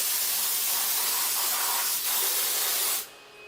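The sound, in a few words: CNC machine coolant spray and spindle being shut off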